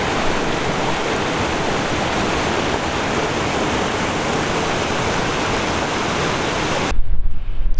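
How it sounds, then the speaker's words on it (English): A glacier-fed creek rushes through a mountain gorge in Banff, a loud, unbroken roar of water that cuts off abruptly near the end, leaving a brief rumble of wind. "So there's a glacier up to the left of us there, feeding this river, or creek, or stream, whatever you want to call it."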